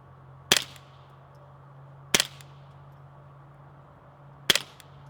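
Three sharp dull cracks spaced a couple of seconds apart over a low steady hum as suppressed .30-caliber rifle rounds hit a dirt berm at about 17 yards, each thud short and dry with no ringing afterward.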